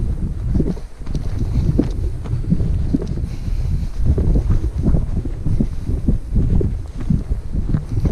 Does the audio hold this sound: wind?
yes